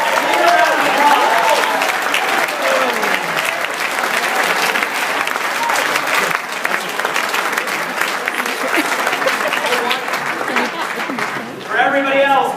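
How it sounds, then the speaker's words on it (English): Sustained applause from an audience at a regional success training event, loud and steady for about eleven seconds, with voices and cheering mixed in and a speaking voice rising near the end. "Give these people a big round of applause."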